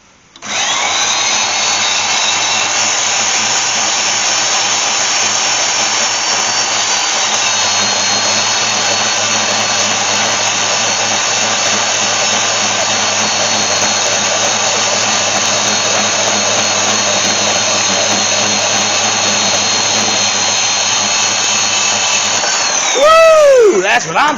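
A power tool whines steadily while cutting through a stuck blower fan motor shaft, a loud continuous high-pitched grinding with several tonal overtones, ending in a brief rising squeal as the cut finishes.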